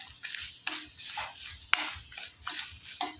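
Kashmiri chilli powder and garlic chutney mixture heating in a pan, a soft continuous sizzle broken by scraping stirs and a few sharp clicks of a spoon against the pan, close and moderately loud, no talking.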